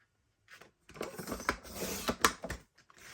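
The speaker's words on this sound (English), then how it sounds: "So I'm going to make a 4-inch cut there." A paper trimmer cuts a sheet for a scrapbook page. The blade slides in a short, close, scraping and clicking pass that lasts about two seconds, with no talk.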